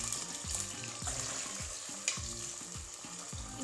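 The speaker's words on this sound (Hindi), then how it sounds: "डालेंगे इसके अंदर लहसुन की कलियाँ और प्याज, और ये अच्छे से तड़क जाएंगे" Garlic cloves and onions sizzle and crackle in hot oil for a mutton curry, a steady close frying hiss with rhythmic scraping as they are stirred.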